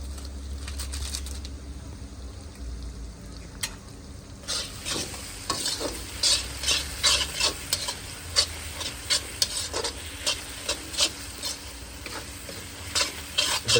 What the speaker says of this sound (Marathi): आता आपण तेजपत्ता टाकतोय.